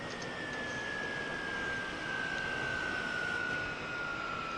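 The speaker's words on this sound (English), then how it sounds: "Unfortunately, to rearm refuel this aircraft, you do need to shut down." A fighter jet engine winding down in a combat flight simulator game: a steady, fairly quiet whine slowly falling in pitch over broadband turbine roar, with no talking.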